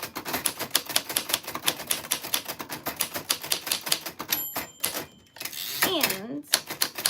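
Rapid typewriter keystrokes clatter in a steady run with a carriage-return ding and zip near the end, while a voice speaks over parts of it.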